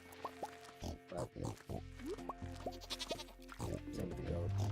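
A goat in Stardew Valley gives short, repeated bleats alongside other farm animal calls and game sounds, in a busy, continuous mix.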